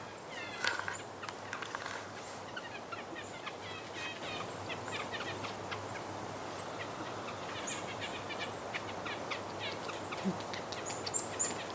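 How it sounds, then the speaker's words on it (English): Birds call repeatedly in an autumn forest campsite at Algonquin Park, with bright chirps and gobbling calls scattered over a steady outdoor background, some near and some farther off. "Hope you can hear the birds."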